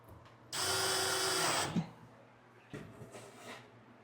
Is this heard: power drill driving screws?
yes